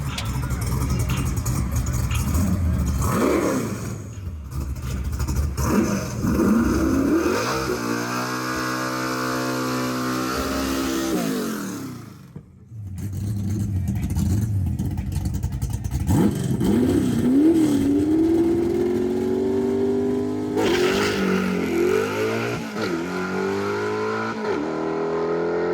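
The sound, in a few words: car engine revving with wheels spinning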